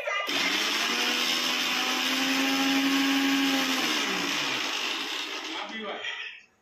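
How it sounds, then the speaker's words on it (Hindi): An electric mixer grinder (mixie) grinds at home with a loud, steady high-pitched whir that holds for several seconds, then winds down and cuts off at the end. "ये मिक्सी में हम कुछ भी पीसते हैं तो।"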